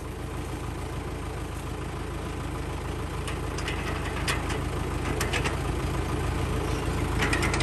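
An Arjun 555 tractor in original condition, fitted with 14-inch tyres, idles nearby with a steady, low diesel chug that holds an even rhythm throughout, with faint knocks and clicks on top.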